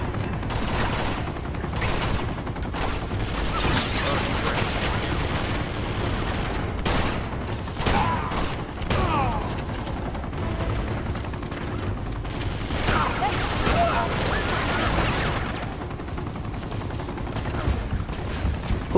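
Sustained gunfire crackles through a firefight in Uncharted 2: Among Thieves, loud bursts of shots and impacts repeating throughout against continuous action noise, with occasional talk mixed in.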